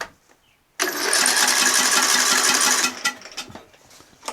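A John Deere L100 lawn tractor engine cranks and catches, running loud and steady for about two seconds before cutting out, followed by scattered clunks and knocks.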